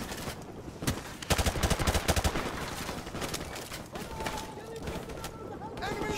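Rapid bursts of automatic gunfire in the first-person shooter Modern Warfare Remastered, loud and dense early on, then thinning to scattered shots, with players talking over the combat.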